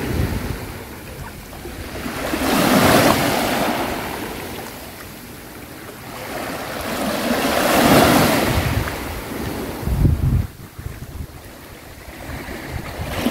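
Sea waves at a beach in Crikvenica surge and recede in slow, loud swells with rushing surf, heavy wind buffeting the microphone throughout.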